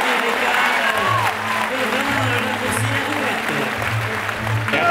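Audience applause rises in a steady, dense wash of clapping. A low, droning murmur runs beneath it for the whole stretch.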